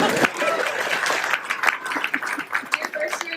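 Hall of Fame induction audience claps for the inductee's mother, a round of applause that starts full and thins into scattered claps, with some speech and chatter mixed in.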